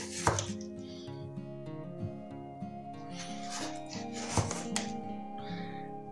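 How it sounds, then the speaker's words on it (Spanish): Knife chopping sliced squash (zapallo) into cubes on a cutting board in a home kitchen, with a steady run of close, crisp knocks and a few louder strikes, no talk. "lo que vamos a hacer es las vamos a cortar en cubos de la siguiente manera"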